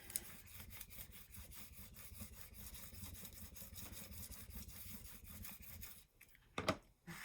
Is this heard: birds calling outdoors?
no